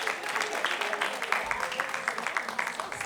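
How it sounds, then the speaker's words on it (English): A conference audience gives a short, fairly faint burst of steady clapping as panelists walk to the stage at a museum anniversary symposium. "Clap it up for them as they make their way to the stage."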